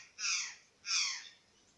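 A black and white bird calls twice outdoors near water, two harsh, raspy crow-like caws about half a second each, fairly clear against quiet surroundings.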